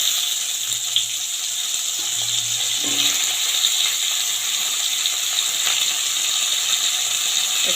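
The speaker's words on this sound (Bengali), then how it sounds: "আবার আমি তেল দিয়ে দিলাম, এবার আলুগুলোকে আমি ভেজে নেব।" Potatoes frying in oil in a pan, a steady broadband sizzle and hiss that holds evenly throughout with no voices.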